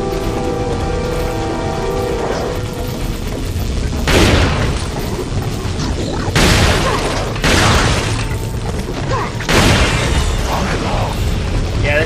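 Shotgun blasts in Resident Evil 4, four heavy booms spaced a couple of seconds apart over a dense, constant bed of game ambience, close and loud.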